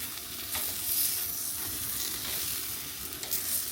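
Porterhouse steak sears on a BBQ grill during a reverse sear, giving a steady, close, broadband sizzle that holds for the whole span with a few brief crackling pops and no voices.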